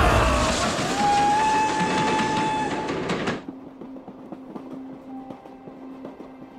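A train runs along rails in a steady, loud rumble that suddenly drops to a quieter, rhythmic clatter with a faint sustained tone.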